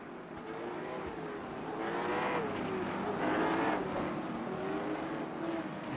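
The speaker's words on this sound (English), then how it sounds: "Here's Trevor revving that thing up, making sure the oil temp stays up to temperature" A race car engine revs repeatedly at a North Wilkesboro grassroots late model race to keep oil temperature up, its loud, rising and falling roar sustained throughout with no talking.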